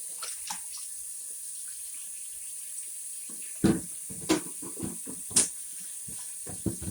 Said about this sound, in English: We're going to take this bucket of chitterlings and we're going to pour it